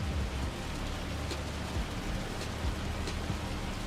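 Hail falls steadily in the farming game Farming Simulator 25, a dense, even hiss of pelting ice with faint scattered taps and no voices over it.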